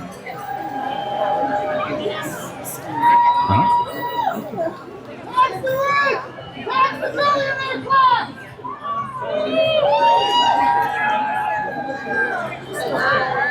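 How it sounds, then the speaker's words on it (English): Protest crowd at a peaceful No Kings rally in Winston-Salem, North Carolina, cheering and chattering in a dense, continuous wash, with bright whistles and shouted voices rising above it and people talking throughout. "And there's my crowd."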